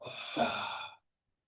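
A single long, breathy exhale during a hip and spine exercise routine, close and fairly soft, swelling slightly midway before stopping abruptly and leaving silence.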